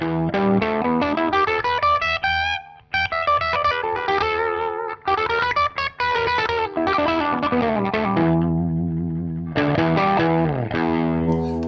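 An electric guitar runs through a ring modulator tuned to E, playing an E minor pentatonic run with metallic, robotic, bell-like tones, loud and alone, with brief gaps between phrases.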